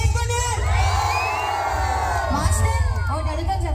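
Audience at a live comedy show erupting in loud cheering, whoops and shrill whistles, a sustained roaring crowd swell close and full throughout.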